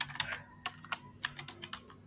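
Quiet keys tapped on a computer keyboard while entering an SQL ALTER TABLE query, a sparse and irregular string of light clicks heard close and alone.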